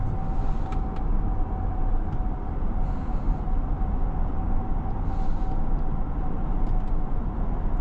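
A 2025 Lincoln Navigator L Black Label on the move, its engine a steady low drone under heavy road and tyre rumble, with a faint constant whine running throughout and no talking.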